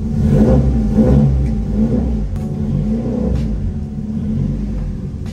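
A 1989 Toyota Corolla engine revs up and holds a raised idle, with a loud, close, steady rumble that rises and falls slightly. No other sound is heard.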